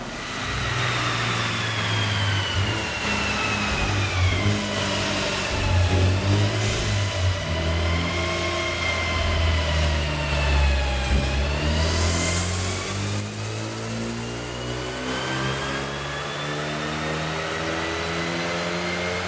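A car engine revs repeatedly during tuning at a tuning shop, loud and close, the pitch climbing and falling in long sweeps over a steady idle drone, with no talking.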